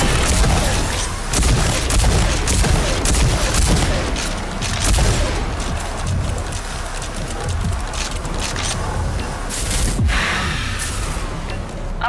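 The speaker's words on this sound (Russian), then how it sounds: "Применяйте форсаж боевого дробовика против врагов в симуляторе." A combat shotgun in overdrive mode fires during a training simulation in the video game Rage 2, giving repeated heavy booming blasts amid a dense stream of game combat effects, loud and continuous throughout.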